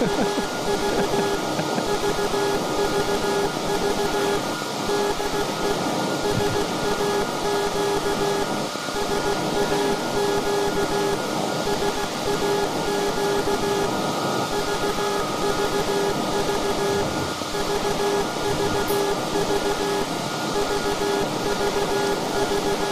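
Steady mechanical hum and whir of the SAQ longwave radio station's century-old transmitter machine running continuously, with constant tonal drones and no talk, filling the room at an even level.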